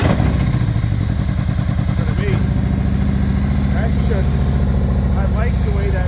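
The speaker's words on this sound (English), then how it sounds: "So now let's listen to this motorcycle start up." Motorcycle engine starting up and settling into a close, loud, lumpy idle with rhythmic mechanical clatter, while someone talks briefly over it.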